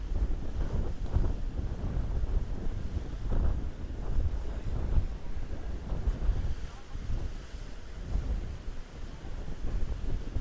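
A boat engine revs hard near a rock wall at a surf beach, a low rumbling drone with pulsing surges, mixed with gusty wind noise buffeting the microphone throughout.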